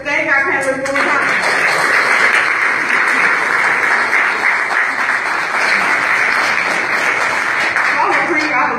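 A group audience at a women, law and justice panel event claps loudly and steadily for the panelists, a dense full round that starts abruptly after brief talk and tapers near the end, with voices faintly underneath.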